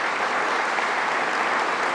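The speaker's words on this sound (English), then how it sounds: "could we please give them a round of applause?" A conference audience at DjangoCon Europe 2023 applauds the event's sponsors during the opening welcome session, a dense, steady wash of many hands clapping throughout.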